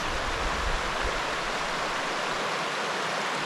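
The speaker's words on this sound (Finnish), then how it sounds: "Siinä olisi taas joen ylitys." A river rushes loudly and steadily at a hiking crossing in Urho Kekkonen National Park in early summer, a constant broadband wash with no voices.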